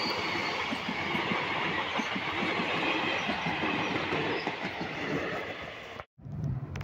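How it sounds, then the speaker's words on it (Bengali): A train runs through Betla forest on the Dhanbad–Daltonganj line, travelling from Daltonganj toward Dhanbad. Its wheels give a steady, close clickety-clack rumble that holds loud for about six seconds and then cuts off abruptly. "এই ট্রেনটি এখন ডালটনগঞ্জের দিক থেকে আসছে, ধানবাদ যাচ্ছে।"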